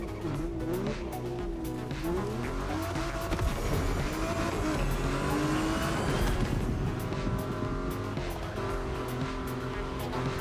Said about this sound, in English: this car is now very, very, very nice to drive